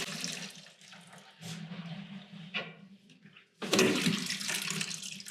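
A plunger is pumped up and down in a clogged sink, with gurgling, sloshing water in repeated bursts and a sudden loud rush of draining water near the end, heard close.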